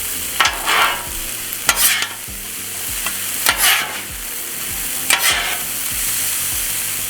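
Fried rice with Chinese hot mustard is stirred in a hot pan over a switched-off grill. Repeated close scrapes land roughly every second or two over a steady soft sizzle, with no voices.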